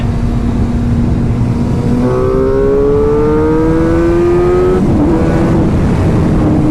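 A 2016 Suzuki GSX-R 750 sport motorcycle engine drones loudly while riding, its pitch climbing through the revs and dropping at gear shifts, under steady wind rush with no talking.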